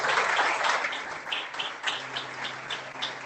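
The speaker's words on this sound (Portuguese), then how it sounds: "E as palmas." A church congregation at an evening prophetic service claps, with a broad wash of applause and some sharper individual claps recurring, fairly close and moderately loud, easing slightly after the opening second.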